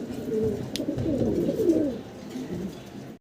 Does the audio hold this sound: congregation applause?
no